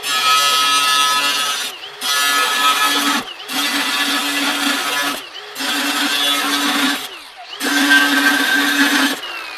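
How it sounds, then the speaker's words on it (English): An abrasive cutting wheel grinds through steel in five separate cuts, each a loud, harsh whining roar lasting a second or two, broken by brief dips as the wheel lifts between cuts. "5 cuts with the abrasive wheel"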